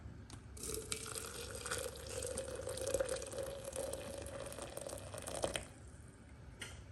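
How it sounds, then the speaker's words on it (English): Water poured from a kettle over a handful of dried butterfly pea flowers in a pot, a steady close trickling pour lasting about five seconds before stopping abruptly. "Let's add our water."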